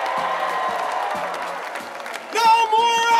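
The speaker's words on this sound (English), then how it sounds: "Give yourself a round of applause." Large parade crowd celebrating the Baylor men's basketball national championship, applauding and cheering in a dense, steady wash, with a sharper, louder burst of crowd noise near the end.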